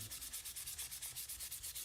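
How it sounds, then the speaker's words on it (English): Aluminum vintage motorcycle parts polished by hand without power tools, a soft rhythmic rubbing of quick, even back-and-forth strokes repeating steadily and close by. "This is a low-key polishing aluminum night. Doing it all by hand, no power tools."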